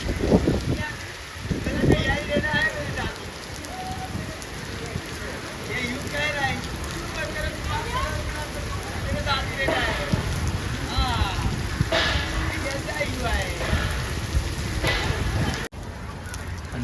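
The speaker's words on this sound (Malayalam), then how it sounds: "ഇപ്പൊ നല്ല മഴയാണ് കായ്, നല്ല മഴ." Heavy rain pouring down outdoors at a zoo, a dense steady patter filling the background while people talk over it and a few goose-like honks sound from nearby.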